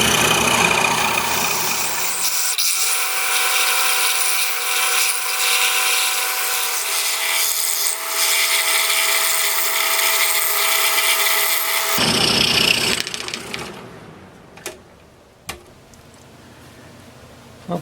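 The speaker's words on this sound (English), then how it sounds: "We'll cut this out on the scroll saw." A scroll saw fitted with a new number 5 reverse tooth blade cutting a half-inch piece of 2x4 wood, a loud steady buzzing motor and blade for about ten seconds, then stopping, with a few faint knocks afterward.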